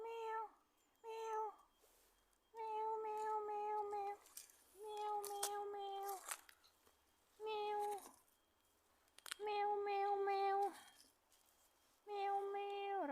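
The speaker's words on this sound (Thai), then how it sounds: "วันนี้เรามาเจอแมวนะคะ" A black cat meows repeatedly outdoors, a series of clear, close, drawn-out mews with short pauses between them, with no talking over them.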